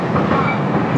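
The Gwalior Express rumbles at platform 5, a loud, close, continuous mechanical roar lasting only a moment.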